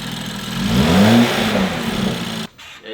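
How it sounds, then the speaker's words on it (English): A BMW 435i fitted with a racing cold air intake revs once, the engine note swelling loud and close before cutting off sharply near the end. "we're gonna rev it to see how it sounds."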